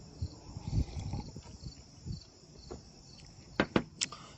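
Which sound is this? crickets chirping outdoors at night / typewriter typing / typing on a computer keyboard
crickets chirping outdoors at night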